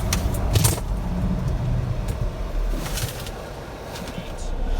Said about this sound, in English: here's a performance test. And then here's hard braking.